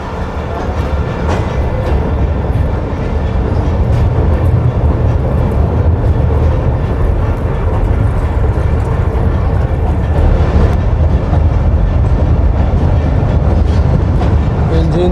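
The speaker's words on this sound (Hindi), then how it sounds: "अयूब ब्रिज के ऊपर जा रही है ट्रेन" A Sukkur Express train crosses the pillarless Ayub Bridge with a loud, continuous roar and rattle of wheels on rails, steady and close throughout.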